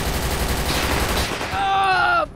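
Rapid automatic gunfire rattles in a GTA 5 roleplay shootout, a dense burst of shots, loud and close, ending with a ringing metallic tail.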